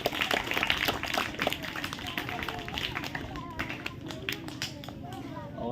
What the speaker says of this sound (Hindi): जोरदार ताली से स्वागत करिए